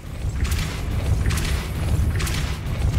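Depulso spell cast in the Hogwarts Legacy video game, heard as a series of three whooshing magical bursts spaced about a second apart over a low, rumbling game ambience.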